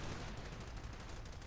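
Dense, continuous battle din from a Company of Heroes match: rapid machine-gun fire blended with booming artillery shelling, loud and unbroken throughout with no pauses.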